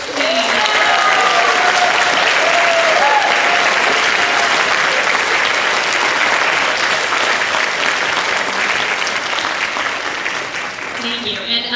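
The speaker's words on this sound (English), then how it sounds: "can we give you a round of applause, please?" A crowd at a high school spring orchestra concert honoring seniors applauds loudly and steadily for the whole stretch, a thick wash of clapping with a brief voice near the end.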